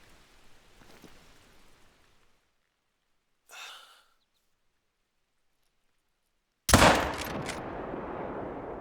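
A single loud rifle shot at a deer in the hunting game theHunter: Call of the Wild, set at Layton Lakes, cracking sharply after near silence and a brief breath, then trailing into a sustained rumbling echo.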